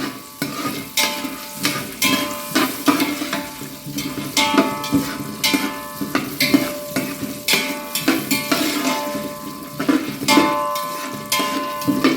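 Peanuts frying and being stirred in a pan for onion rice, a steady sizzle broken by repeated scraping and clinking of a spoon against the metal, close and loud throughout.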